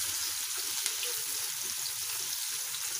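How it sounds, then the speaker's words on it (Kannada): Onions frying with a bay leaf, two dried red chillies and a little turmeric for tomato chitranna, a steady close crackling sizzle throughout with no talking. "ಇದೆಲ್ಲ ಈರುಳ್ಳಿ ಎಲ್ಲ ಸ್ವಲ್ಪ ಕಲರ್ ಚೇಂಜ್ ಆಗೋವರೆಗೂ ಚೆನ್ನಾಗಿ ಫ್ರೈ ಮಾಡ್ಕೊಳ್ಳೋಣ"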